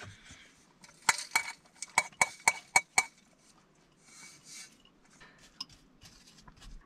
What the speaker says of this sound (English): the final step is to put the crumble on top.